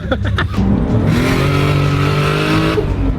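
Porsche 911 996 engine accelerating hard on a drive, a loud close roar rising in pitch through the gears with a brief shift break, heard from inside the car.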